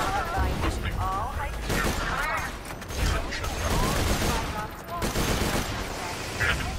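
Rapid gunfire from the video game Borderlands 2, with dense bursts of shots and mechanical clatter running almost continuously over game effects, loud and close.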